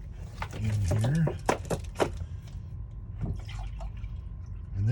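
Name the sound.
pouring water into a pot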